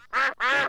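Two loud, nasal cartoon duck quacks from Peppa Pig in quick succession, close by and alone.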